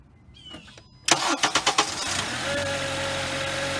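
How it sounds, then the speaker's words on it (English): A car engine cranks with a few rapid rhythmic turns, catches, and settles into a steady, fairly loud idle close by, after a quiet stretch with faint tones. "Now watch what happens when we turn on the car"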